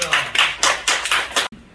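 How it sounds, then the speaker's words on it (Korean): Burst of hand clapping from a congregation at a church thanksgiving service, a steady run of loud claps lasting over a second before cutting off sharply into near silence. "박수를 드립니다"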